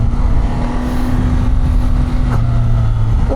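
Triumph Tiger 800 three-cylinder motorcycle pulling hard in sport mode with a quick shifter, a steady loud engine drone and wind rush that rises in pitch toward the end, heard from the rider's position with no talking.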